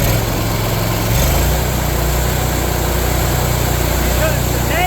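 A small engine runs steadily and loud, its low drone stepping up in pitch about a second in as it is revved and then held at the higher speed, beside a brand new battery being tested.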